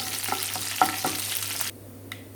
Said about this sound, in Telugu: తాలింపు మాడకుండా చూసుకోండి.